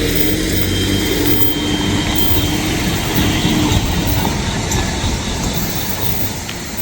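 A train rolls past close by, a loud, dense rumble of wheels on rails with faint clatter, steady for several seconds before fading slightly at the end, with no talking.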